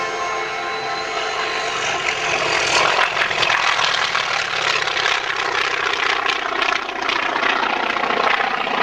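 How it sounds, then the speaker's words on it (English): A Russian Chaika biplane flies overhead at an air show, its propeller engine a loud, sustained drone that builds and holds close throughout. "comes the Chaika over the top."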